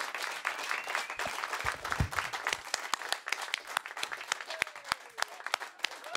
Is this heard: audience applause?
yes